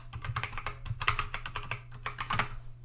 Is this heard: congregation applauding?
no